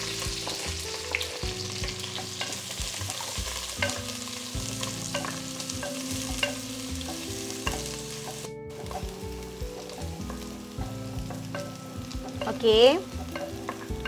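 Shallots fry in a pan alongside bay leaf and pandan for a mutton curry, a steady close sizzle with stirring clatter, a brief pause, then a short louder burst near the end; a single short word is spoken.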